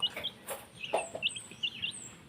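Pet chickens at feeding time give a scatter of short, fairly faint clucks and chirpy calls, a few overlapping, over a quiet outdoor background.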